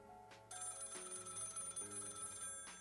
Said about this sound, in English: So the phone rings again,